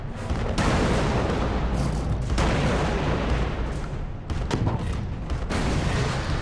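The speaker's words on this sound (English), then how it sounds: "No one said anything about crabs shooting crabs!" Crabs fire weapons in Alice: Madness Returns, a dense, unbroken barrage of loud booms and gunfire with brief gaps between volleys.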